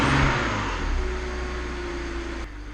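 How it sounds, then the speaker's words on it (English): A car engine idles steadily while warming up during vacuum leak diagnosis, a close, even hum with a slight rise in the first moment and no talking. "Let's let this engine warm up completely"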